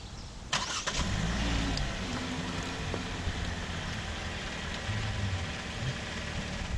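A 2018 Hyundai Kona engine cranks briefly and catches, then settles into a steady, even idle that continues close by with no talking.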